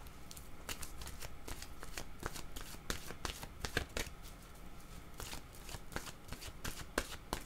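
A deck of playing cards is shuffled repeatedly during a tarot-style reading, giving fast papery riffles and slaps in uneven bursts, close and fairly quiet, with no voice over it.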